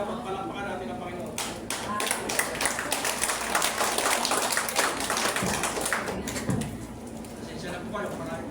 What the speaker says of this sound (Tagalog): Kaya dapat palakpakan natin ang Panginoon.